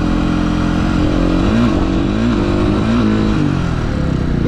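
Motorcycle engine revved hard with the throttle while a rider practises wheelies, a loud, close, continuous roar with pitch rising and falling as the throttle is worked.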